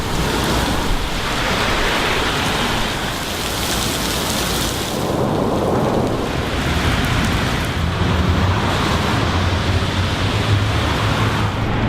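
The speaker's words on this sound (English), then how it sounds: "Oh, now it's downpouring." Heavy downpour heard from beneath a bridge, a loud continuous roar of rain pounding surfaces with a deep rumbling undertone and no talk.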